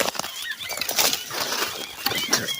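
Lively birds calling in thick jungle on a bright day, a busy mix of chirps and whistles at moderate distance alongside rustling, with no talking.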